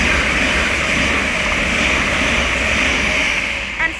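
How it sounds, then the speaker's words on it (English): A Great Northern Class 387 electric train passes at Welwyn Garden City station on the East Coast Main Line, a loud continuous roar that holds for the whole clip with no talk over it. "We're about to have a Great Northern lot of Class 387 to pass by from London King's Cross to Ely."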